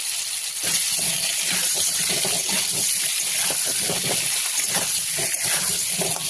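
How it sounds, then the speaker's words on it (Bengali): Potatoes with turmeric and salt fry in hot oil in a wok, giving a continuous loud hiss with irregular crackles and pops throughout. "আলুগুলোকে লাল লাল করে ভেজে নেব।"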